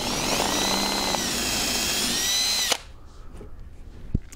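A power drill bores a pilot hole for a lag screw in a wooden mounting block, a loud high-pitched whine holding steady for nearly three seconds before stopping abruptly, followed by quiet handling clicks and a soft knock.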